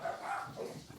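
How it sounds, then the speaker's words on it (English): Dogs barking somewhere in the background, a short run of muffled yaps and barks at moderate distance over a steady room hum. "right on cue, there goes the dogs"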